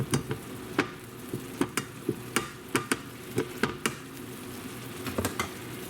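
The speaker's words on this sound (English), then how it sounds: "Deglazing the pan." Chicken thighs being deglazed in a hot pan: a faint low sizzle runs under a string of sharp, irregular scraping taps from a utensil working the pan bottom, close and fairly quiet.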